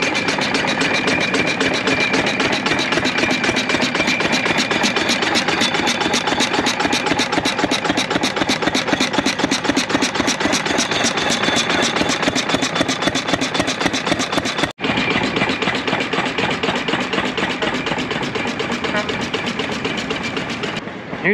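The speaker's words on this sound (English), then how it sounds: "We got hit and miss engines." A truck show convention with hit and miss engines and big rigs such as a Cummins-powered Ford L9000; steady loud mechanical running with dense rhythmic firing throughout, briefly cut near fifteen seconds, with some voices in the mix.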